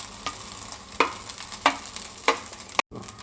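Rice for egg fried rice, tossed with ginger-garlic paste and turmeric, is stir-fried over a steady close sizzle, with five evenly spaced scraping strokes of a spatula before the sound cuts off abruptly.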